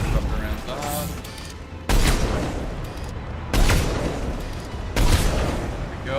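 Disruptor rounds firing in Mass Effect 3, loud bursts of sci-fi gunfire and heavy booms hitting at roughly regular intervals, with a dense battle din between shots.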